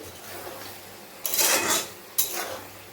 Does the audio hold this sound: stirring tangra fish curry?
yes